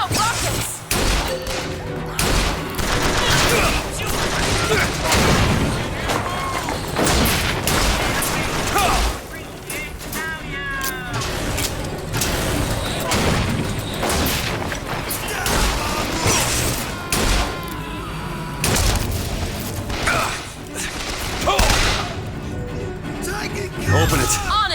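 Rocket explosions in Bioshock Infinite: a continuous barrage of loud booms, crashes and thuds amid dense game combat noise, with people talking over the mayhem throughout.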